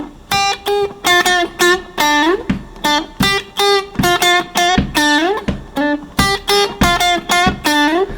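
Funky electric guitar lick in D, bright harmonic-rich notes played in quick choppy phrases with short gaps, some notes bending, loud and close with no talking.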